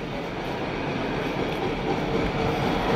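A train rumbles steadily nearby, a continuous loud mechanical roar with faint clattering of wheels, no voices.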